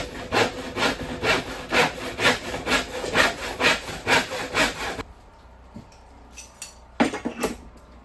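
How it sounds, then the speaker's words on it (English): A traditional hand saw cuts through a wood board in steady, rhythmic back-and-forth strokes for about five seconds, close and loud, then stops; a few light knocks and a brief scrape follow in the quiet. "Or you can use just a traditional hand saw, the way that this one is."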